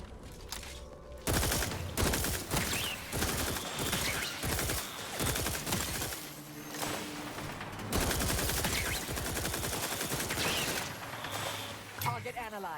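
Video game gunfire in The Outer Worlds 2: rapid bursts of shots crackle almost continuously, with brief lulls and loud volleys near the listener, while voices speak intermittently among the firing.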